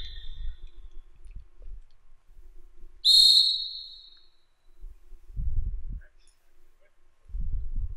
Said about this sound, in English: It's like penalty kick whistle for a goal kick.